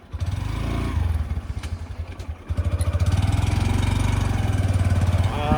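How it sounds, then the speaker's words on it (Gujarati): A motorcycle engine chugs and revs loudly at close range as the bike struggles along a rain-flooded, slippery village trail, its throb steady with brief dips in power. "બાઇકનું વ્હીલ બહુ લપસે છે"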